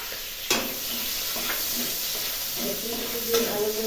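Chopped garlic fries with a few prawns in a pan, producing a continuous sizzle broken by stirring knocks and scrapes, close and moderately loud.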